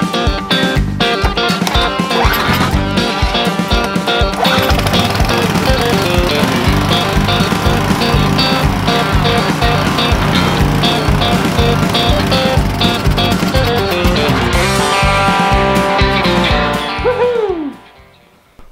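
Small gasoline engine kicking into life and running at a fast, rattling idle for around seventeen seconds, loud and close, before abruptly cutting out and sputtering to silence.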